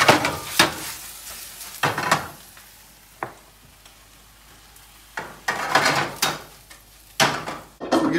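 Five ounces of fresh spinach hits a hot pan, crackling and sizzling loudly while a utensil stirs and scrapes it in uneven bursts, with no voices.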